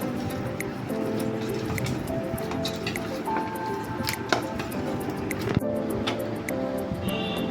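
Hands knead wheat dough for poli, pressing it in soft, repeated squishing strokes that stay close and steady under a continuous tonal background.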